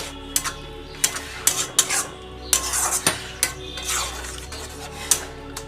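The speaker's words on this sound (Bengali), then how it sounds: "আর একটু কষিয়ে নিই।" Paneer cubes stirred and sautéed in thick palak (spinach) gravy with garam masala in a pan, giving repeated sharp spoon scrapes and clinks against the metal over a soft sizzle, close and moderately loud with no talking.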